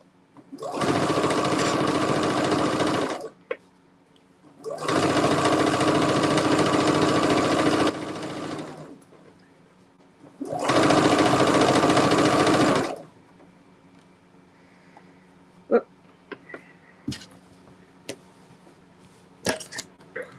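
Sewing machine stitching triangle-pieced quilt fabric, running in three steady bursts of a few seconds each with pauses between, close and fairly loud, then light clicks and handling sounds.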